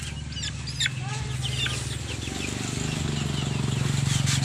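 Backyard chickens cluck and chatter at close range, short clucks scattered over a steady low hum that continues throughout.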